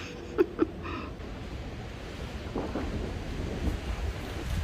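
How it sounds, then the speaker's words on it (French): A summer thunderstorm beginning on a hot day: a low, steady rumble and rushing wind-and-rain noise build and swell after two brief sharp taps at the start, with no talking. "Ça commence toujours comme ça, une mini tempête et après la grosse tempête."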